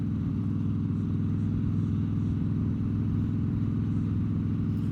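Steady low engine rumble of a motorcycle cruising along a road, constant and moderately quiet throughout with no change in pitch and no voices.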